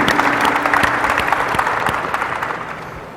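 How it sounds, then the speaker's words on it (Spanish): Audience applause at a national social-oversight meeting in Mexico welcomes a panelist, a steady dense clatter of many hands that holds strong and then tapers slightly toward the end, with no talk over it. "Lo recibimos también con un fuerte aplauso al licenciado Antonio Luigi Masitelli."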